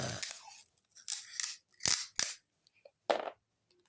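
Several short, sharp ripping bursts of sticky tape being pulled and torn, close up, separated by quiet gaps.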